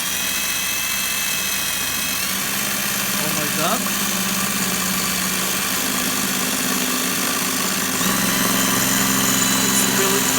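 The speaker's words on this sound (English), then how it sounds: "It's drilling metal, not an ordinary piece of metal." An Ingco cordless drill grinds through a thick, strong piece of metal with a steady, loud mechanical whine and hum, continuous throughout, while a person briefly exclaims over it.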